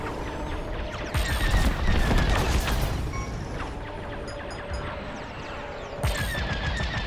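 Rapid laser cannon fire and explosive blasts from a starfighter dogfight in Star Wars: Squadrons, loud bursts in clusters over a dense rumbling battle mix, with no talk.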